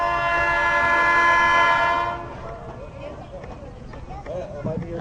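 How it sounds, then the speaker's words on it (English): A train horn blasts loudly and steadily for about two seconds, then cuts off, leaving the rumble of a passing train with clanking rail noise and some distant bell-like tones. "That might be your train."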